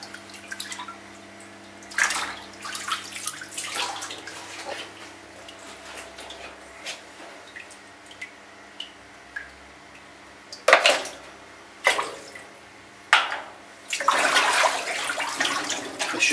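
Water splashing and sloshing as a koi is lowered into an anaesthetic bath, several short bursts of splashing with quieter drips and trickles between them and a low steady hum underneath.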